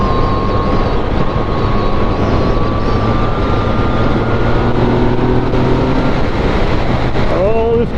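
2017 Yamaha FZ-09 motorcycle engine droning steadily at speed while riding, partly buried under loud wind buffeting, with tonal pitch shifts as the revs change.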